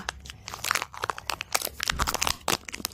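Someone tears open a crinkly snack wrapper, a dense run of sharp crackles and rustles coming close and loud for a few seconds with no talking.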